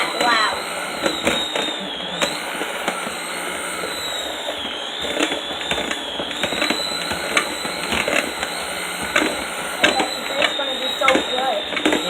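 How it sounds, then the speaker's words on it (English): A loud electric mixer whirs steadily, beating chocolate torte ingredients for a keto dessert, with a continuous high-pitched motor whine close up and voices talking over it. "Cover your ears, guys. This is going to be loud. We're just going to mix this up."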